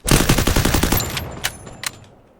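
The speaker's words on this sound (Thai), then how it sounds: "ขอยิงมันทิ้งก่อนแล้วกัน" A rapid burst of automatic gunfire in Free Fire, loud and close, about a dozen shots in quick rhythm, then two more separate single shots as the echo dies away.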